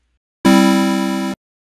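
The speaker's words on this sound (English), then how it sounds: "If I brought the attack down to zero, it would sound like this." A single synth note sounds through a low-pass filter whose envelope attack is set to zero, so the bright, buzzy tone opens instantly and holds steady for about a second before cutting off cleanly, with nothing else heard.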